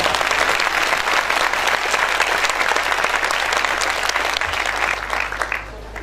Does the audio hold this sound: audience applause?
yes